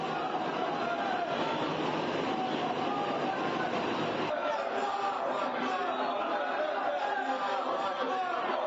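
A passenger train rolls into Diyarbakır station with a steady rumble of rail cars and wheel noise, the sound dropping lower after a few seconds, while people talk faintly in the background.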